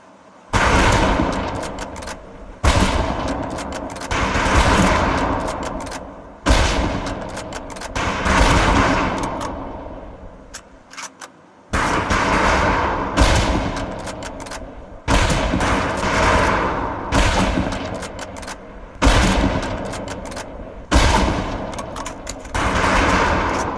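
Rifles fire on a firing range in the Medal of Honor: Pacific Assault game: loud, close, repeated volleys of sharp gunshots in rapid bursts, separated by brief pauses, with no talking.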